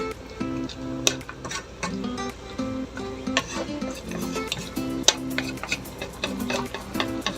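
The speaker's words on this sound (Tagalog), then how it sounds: "Halo lang ng mabuti." Spoon scraping and clicking against a cooking pan as a dish with a little broth is stirred, a steady run of close, irregular knocks over a low simmer.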